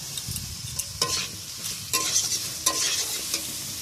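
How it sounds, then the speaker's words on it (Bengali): Frequent scraping stirs sound over a low sizzle as green chili, turmeric and cumin powder fry in a pan. Strokes come every half second or so, close and fairly crisp, with no talking. "এবার একটু কষিয়ে নেব"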